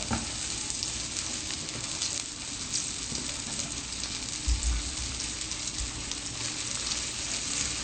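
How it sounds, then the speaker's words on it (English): Breaded cutlets fry in a pot of oil with a steady, dense sizzle and crackle that holds at an even level throughout, with a brief low thump near the middle and no voices. "As you can see, we're browning these up absolutely beautifully"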